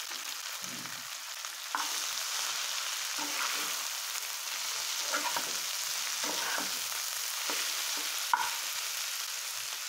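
Red amaranth greens sizzle softly in hot oil with fried onion, garlic, green chilli and cumin, a continuous quiet hiss broken by occasional scrapes and knocks of stirring.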